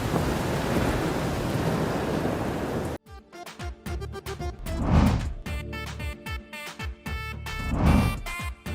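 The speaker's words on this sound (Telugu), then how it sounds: "బయట వర్షం పడుతుంది" Steady rain pours outside for a few seconds, then gives way to music with deep, rumbling thunder-like swells in a stormy scene.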